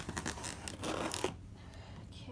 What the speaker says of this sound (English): now that we have the scissors, I am going to cut this thing open